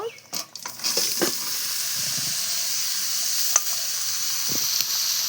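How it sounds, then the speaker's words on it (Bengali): Cumin, bay leaf and dried chilli crackle and sizzle in hot oil in a kadai as a steady broadband hiss, with a few sharp pops and light stirring knocks near the start. "এই যখন ফোড়ন দিয়ে দেবো এই জিরে তেজপাতা শুকনো লঙ্কা"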